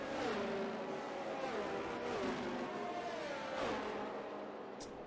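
Race cars in a racing video game weave while warming their tires before a Brazilian Grand Prix sprint race, several engines droning and revving up and down continuously at close range, with pitch sweeps as they accelerate and ease off.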